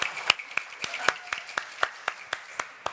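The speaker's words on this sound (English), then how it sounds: "This is where everyone claps." Sparse audience clapping on the set of a charity cooking show finale, a handful of sharp, evenly spaced claps close by over about three seconds.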